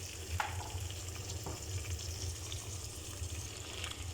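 Chicken browning in a frying pan, a steady close sizzle and crackle with a few faint clinks over it, no voices.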